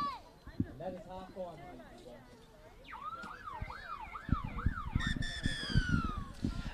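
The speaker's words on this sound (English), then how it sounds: "There goes the siren in the background." A wailing siren sounds at half-time of a rugby league third-place playoff between Greece and Hungary at St Mary's Stadium, rising and falling sweeps over crowd noise and close commentary.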